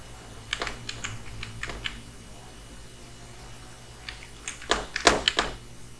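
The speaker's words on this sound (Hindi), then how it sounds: "इसको यहाँ पे टाइप करता हूँ" Typing on a computer keyboard while entering a bank account number into an online form: two bursts of quick, close keystrokes separated by a quiet pause, with the second burst louder and denser.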